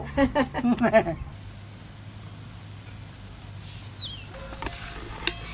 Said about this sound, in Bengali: দেখলেন তো ভাজা হচ্ছে, এখনো পর্যন্ত ভাজা হচ্ছে